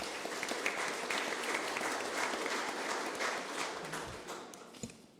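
Audience at a public hearing in a hall giving a round of applause, a continuous field of clapping that gradually thins toward the end with a few louder claps near the close.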